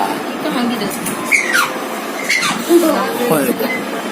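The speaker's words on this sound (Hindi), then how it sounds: "हमारी बिटिया चिल्ला आ रही है।" A young girl screams and squeals in sharp, high, wavering bursts, several in a row against a busy household background.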